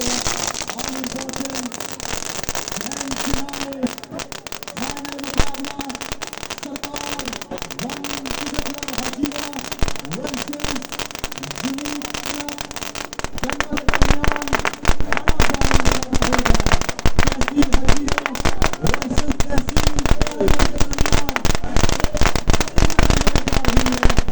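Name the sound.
fireworks going off during a street rally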